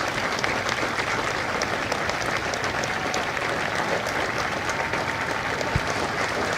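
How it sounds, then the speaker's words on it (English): A crowd at a Marine Corps recruit graduation for Charlie Company at MCRD San Diego applauds steadily and evenly, with dense clapping that holds at one level throughout and no voices over it. "Ladies and gentlemen, a round of applause for their dedicated service to Corps and country."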